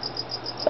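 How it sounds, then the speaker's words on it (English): A cricket chirps inside a spider enclosure holding a Brazilian fire red bird eater, its short, evenly spaced high chirps repeating close and clear over a quiet background. "there is a cricket in there"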